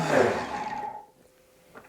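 A blender blitzes zucchini flatbread batter in one loud whirring burst that winds down and falls silent within about a second, leaving a faint tail of quiet noise.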